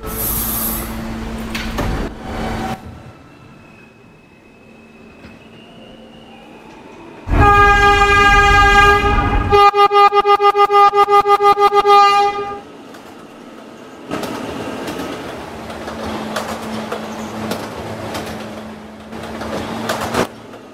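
Horn of an R160A subway E train on the Fifth Av line, a loud sustained multi-tone blast of about five seconds standing out over the rumble of the moving train, which carries on before and after.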